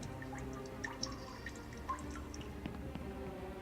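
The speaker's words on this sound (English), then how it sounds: "Oh, there is water noise." Water dripping in a cave-like Unreal Engine game level; faint, scattered drips over a low ambient hum, irregular and distant-sounding, with no voices.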